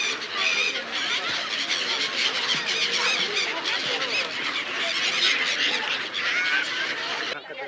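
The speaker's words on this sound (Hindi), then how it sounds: "प्रवासी पक्षियों का झुंड मां नर्मदा की लहरों पर अटखेलियां कर दर्शनार्थियों का मन मोह रहा है" Dense flock of migratory waterbirds on the Narmada riverbank at Gwarighat, Jabalpur, squealing and honking continuously in a loud, overlapping chorus that fills the whole stretch before cutting off abruptly near the end.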